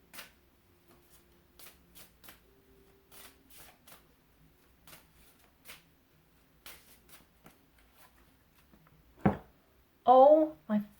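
Tarot cards riffled and shuffled in quick papery bursts, with soft taps between and a brief louder flurry near the end; faint voices murmur in the background.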